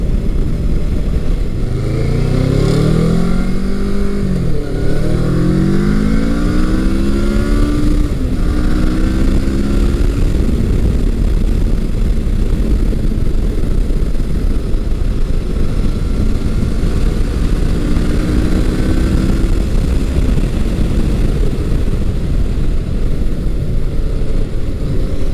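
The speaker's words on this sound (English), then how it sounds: "the motor picks up really nice. It's got a nice sound to it as you rev it up." A first-generation Kawasaki Versys 650 motorcycle engine revs and accelerates, loud and close, with rising and falling pitch sweeps as it climbs through the revs, then steady running and another rising pull later.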